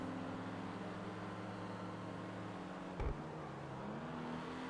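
A race car engine in Grand Theft Auto V holds a steady, droning hum, with a brief thump partway through and a slight rise in pitch near the end.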